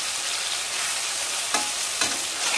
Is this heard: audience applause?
no